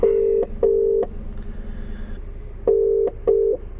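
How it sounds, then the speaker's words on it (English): A phone call is being dialed on a mobile from an HGV cab, with loud steady electronic tones in two pairs of long beeps separated by a quieter gap, and no one speaking. "let's try and make this phone call"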